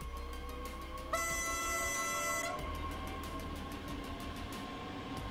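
A BR 442 electric multiple unit in Train Sim World 3 pulls away at full power, its steady motor hum and rolling noise underneath a sustained two-tone horn blast that sounds for about a second and a half early on.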